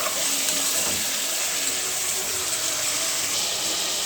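Village-style chicken for biryani frying in hot oil, giving off a steady, even sizzle that holds close and constant throughout, with no speech over it.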